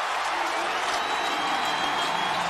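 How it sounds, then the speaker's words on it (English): A packed stadium crowd roars at a 2004 Clemson versus South Carolina college football game, a dense, steady wash of cheering and applause after a Clemson fumble recovery. "listen to the crowd"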